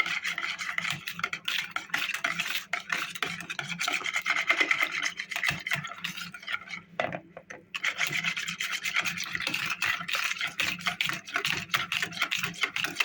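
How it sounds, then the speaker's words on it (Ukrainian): Steady scraping and stirring of a spoon through thick batter with cocoa in a bowl, close and continuous, with a brief pause midway before the stirring resumes. "До однорідної маси розмішуємо."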